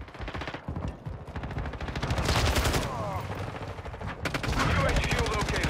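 Rapid automatic gunfire in Call of Duty Modern Warfare 2 rattles in dense bursts, including a Kastov 74u, loud and close, with short pauses between strings of shots and a voice talking faintly underneath.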